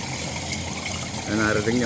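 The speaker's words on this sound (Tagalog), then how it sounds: "tumatapon na yung tubig sa labas nyo mga ka-farmers" Water gushes and trickles out of a fish pond drain pipe, a continuous rushing flow that swells louder toward the end, with a voice speaking over it.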